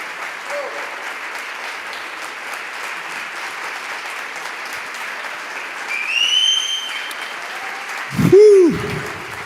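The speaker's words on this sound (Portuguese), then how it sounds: "Se você crê, aplaude a Jesus" A church congregation bursts into applause at a worship service; steady clapping fills the room, with a brief swell of louder applause near the end.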